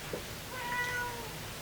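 A cat gives a single short meow, faint and close, in a quiet room.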